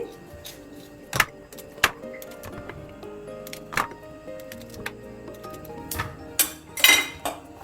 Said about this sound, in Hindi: हम सारे नींबू को काट के रख लेंगे।